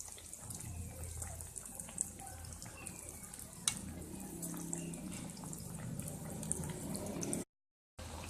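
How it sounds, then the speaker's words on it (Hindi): Eggplant slices frying golden in hot oil, a continuous soft sizzle and crackle with a few brief clinks, close and steady, then a short silent gap near the end. "इनको गोल्डन सा फ्राई करेंगे हम।"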